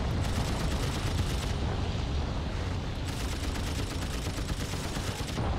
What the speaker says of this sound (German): Oh, ich schieße jetzt auf.